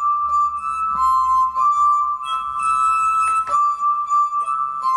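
A musical instrument built from drinking glasses plays sustained, bell-like ringing tones that glide and shift in pitch, clear and close, with faint tapping and clinks between notes.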